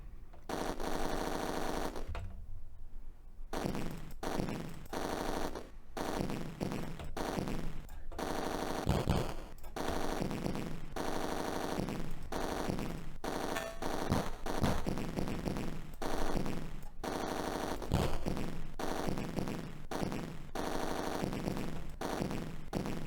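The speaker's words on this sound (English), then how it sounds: "I found A for auto fire though." Continuous auto-fire shooting in the Atari ST rail shooter Roller Coaster Rumbler, a steady stream of rapid electronic shots with brief gaps, running for over twenty seconds without speech.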